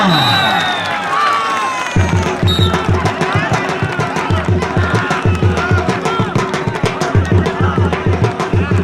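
Loud outdoor crowd at a kabaddi match cheering and shouting, with rhythmic drumming and announcer-like voices running throughout.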